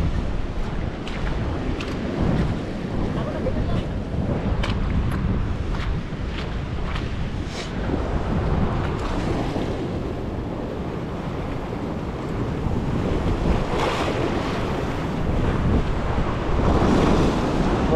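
Large ocean waves surge and break against coastal rocks at a rock fishing spot near Avoca, a continuous loud wash of surf with wind buffeting the microphone throughout, swelling again toward the end.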